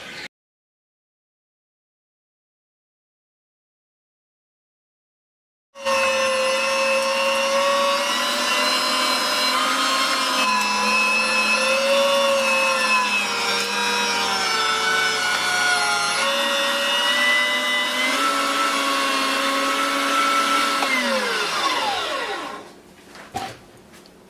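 A meat grinder runs venison through with a loud, steady motor whine and grinding drone for about sixteen seconds after a silent opening, then winds down with a falling pitch and stops.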